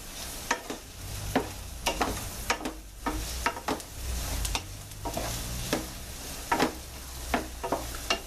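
Onions frying in a pan for corned beef hash, a steady soft sizzle beneath repeated sharp scrapes and clicks of a utensil stirring against the pan, close by with no talking.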